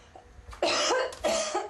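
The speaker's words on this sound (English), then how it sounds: "I started to cough really hard" Two harsh, forceful coughs in quick succession, close and loud, with no speech.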